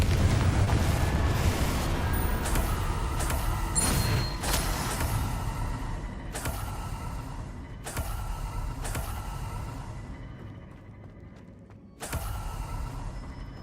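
A Confringo blast spell cast in the video game Hogwarts Legacy: a loud booming burst with rumbling low-end, followed by several sharp impacts spaced a second or two apart over a dense game soundscape.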